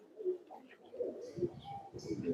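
A few soft, low pigeon coos close by, with light background noise between them.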